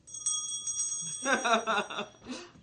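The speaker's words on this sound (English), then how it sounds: "take your little bell. Ring your bell." Small hand bell ringing in a kitchen setting, a few bright, thin tinkling rings that run through the clip, with voices and light laughter over them.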